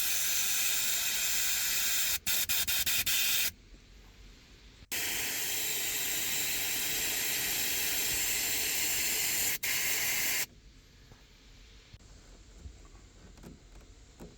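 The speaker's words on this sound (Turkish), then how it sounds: "içerisine hava vurdum. Havayla eğer dedim tıkalıysa temizlenir, açılır diye düşündüm" Compressed air blown through a car's clogged sunroof drain tubes, loud sharp hissing bursts that start and stop abruptly, each lasting a few seconds, with quieter pauses between.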